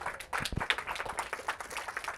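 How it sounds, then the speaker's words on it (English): A round of applause from a small workshop audience, scattered quiet hand claps in a short irregular burst that tapers off, fairly faint and distant. "Another round of applause."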